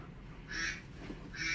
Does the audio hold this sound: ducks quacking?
yes